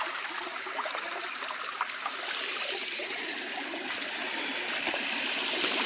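Floodwater rushes steadily through a small culvert by a driveway, a continuous close hiss and gurgle of flowing water with no voices.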